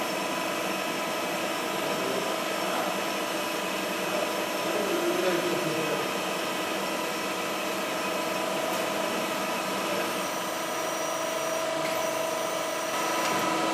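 A MAC ESTUN E200 press brake bending sheet metal, heard as a steady hydraulic drone with a faint whine running throughout, joined by a couple of light metallic ticks near the end; no talking.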